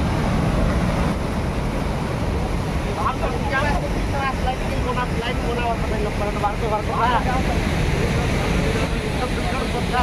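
Chitrakoot waterfall near Jagdalpur, its plunging water throwing up white mist, makes a steady, loud broadband roar with no let-up, and faint higher chirping sounds drift over it partway through.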